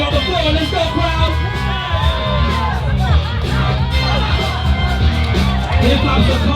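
Crowd at a hip-hop battle roars continuously, a dense wall of cheering, whoops and shouted yells with babbling voices throughout, loud and close with no letup.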